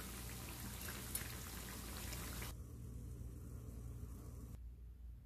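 Poha and potato cutlets fry in hot oil with a soft, continuous sizzle that drops abruptly to a quieter hiss twice, faint and without talking.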